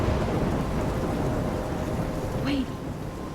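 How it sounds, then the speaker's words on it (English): A thunderstorm in the video game Life is Strange roars with steady, heavy rain and a low rumble of thunder throughout, loud and close, while a voice briefly speaks over it near the end. "I'm trapped in a storm."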